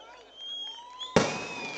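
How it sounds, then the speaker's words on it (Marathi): A single sharp firecracker burst cracks out near the end at a political election rally in Kankavli, following a quieter stretch of crowd noise and amplified sound. "फटाके थांबवा ना आता."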